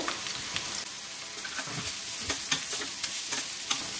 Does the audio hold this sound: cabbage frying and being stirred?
yes